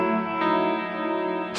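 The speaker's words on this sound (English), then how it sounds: "Actually, you know what will make it pretty authentic is if this long hall reverb on the lexicon." Sustained guitar chord drenched in a long hall reverb from a Lexicon effects unit, a smooth lingering wash with a fresh strum near the end, clear and alone.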